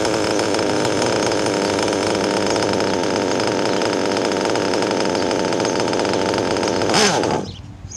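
A cold nitro engine idles a little low with a loud, continuous high buzzing drone, then cuts out abruptly near the end.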